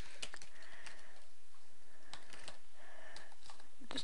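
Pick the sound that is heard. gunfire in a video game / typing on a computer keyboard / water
typing on a computer keyboard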